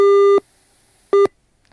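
Telephone busy signal after a dropped call: two steady electronic tones, a long beep then a shorter one, separated by silence, clear and alone with no talk.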